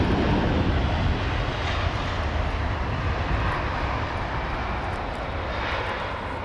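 A British Airways airliner makes its takeoff roll at London Heathrow, a broad, loud jet roar that holds steady and fades slightly toward the end, with no one talking.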